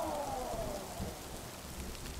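Steady rain falls on an unexplored planet surface in Stellaris, a dense hiss of drops carrying evenly throughout with a faint tonal sweep early on and no voices.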